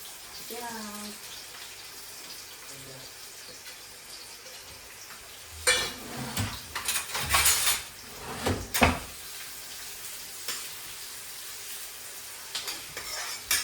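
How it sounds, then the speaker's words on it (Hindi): Mustard seeds dropped into hot oil crackle and pop in a sudden burst of sizzling, then settle into a quieter, steady fizz in a home kitchen. "ये सरसों के दाने डाल दिए"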